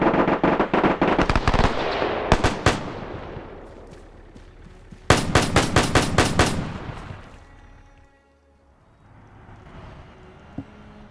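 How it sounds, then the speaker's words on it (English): An MG42 machine gun fires in a WW2 video game, loud close bursts of rapid shots, one long stream, then more bursts with short pauses, fading to quiet rumble. "So we have an MG42 up here. That's what's been firing at him."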